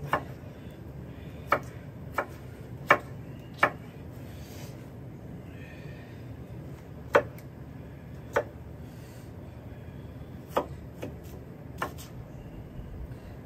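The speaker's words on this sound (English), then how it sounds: "Let's cut the rest of these taters on up" Big old knife cutting potatoes for deer stew on a board: sharp, separate chops at an uneven pace, about a dozen over a low steady background hum.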